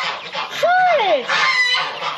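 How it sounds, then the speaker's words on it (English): Geese kept on a backyard farm give a loud, rising-and-falling honk in the middle, set against a busy, noisy outdoor background. "Geese are so loud."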